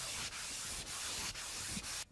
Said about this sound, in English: The top's all sanded now.